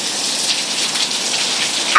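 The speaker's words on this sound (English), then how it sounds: "It's freaking raining so hard right now, man." Heavy rain pours down steadily in a broad, dense hiss, loud and constant throughout, with a brief sharper knock right at the end.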